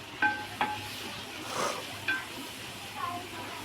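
Tomatoes sautéing in a pan for beef curry, a soft sizzle broken by a few light spoon scrapes and clinks, close and fairly quiet, with no clear talk.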